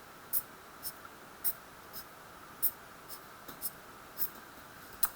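A pen sketching six-membered chemical rings on paper, scratching out about a dozen short strokes in an irregular rhythm, close and fairly crisp against a quiet background.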